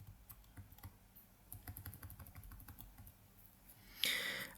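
Arrow keys tapped on a computer keyboard: a quick run of light, close clicks in uneven rhythm, ending in a brief louder burst of noise.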